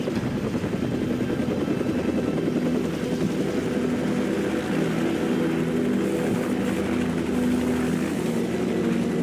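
A helicopter in a Call of Duty game drones steadily with a low throbbing rotor and whining engine, loud and continuous throughout with no talk.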